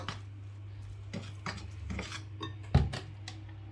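Kaimati dough being mixed by hand in a bowl, with soft irregular squelches and rubs plus a few light knocks against the bowl, close and quiet, no speech.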